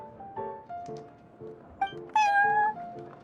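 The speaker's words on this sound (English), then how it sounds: "I thought having a cat take care of our new customers would be quite a nice touch" A cat meows several times in the Genshin Impact video game, in a cozy café-like setting. The meows are short and fairly close, rising over soft background music, with one louder, longer meow near the end.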